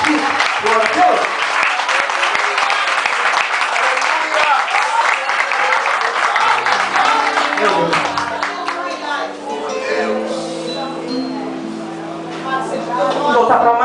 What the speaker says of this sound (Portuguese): Vamos dar uma salva de palmas para o Espírito Santo aqui.